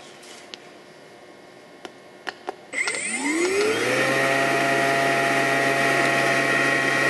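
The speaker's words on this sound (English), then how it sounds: "the open centrifuge has a controllable speed and controllable time setting" A portable battery-powered OpenFuge centrifuge with controllable speed: a few faint clicks, then the motor spins up with a rising whine that settles into a steady, loud hum with high tones, running alone and close.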